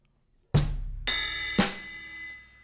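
A drum kit heard up close, with three separate strikes about half a second apart, each ringing out and sustaining, with no voices.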